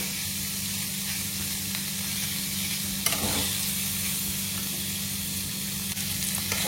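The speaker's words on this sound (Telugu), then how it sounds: "అందుకే నేను ఊరికే కొంచెంసేపు ఫ్రై చేస్తాను" Paneer fries in oil in a pan with a loud, steady sizzle, broken once by a brief stirring clatter partway through.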